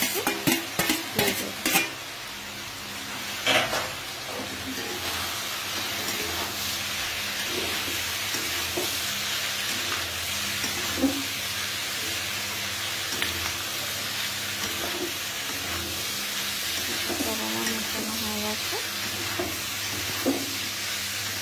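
Fried rice with shrimp and meat is stir-fried in a pan, with a steady close sizzle, repeated metallic scrapes and knocks of the spatula, and denser clatter at the start.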